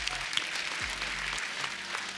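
A studio audience at The Kapil Sharma Show claps in a steady, dense patter of many hands that carries on without a break, moderately loud and unaccompanied by speech.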